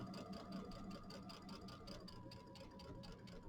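Sewing machine stitching binding onto a mini quilt, a quiet, steady rapid whirring of the needle with a continuous motor hum, close by and uninterrupted.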